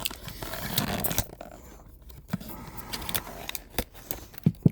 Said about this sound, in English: And let me just go ahead and cut this out of here real quick.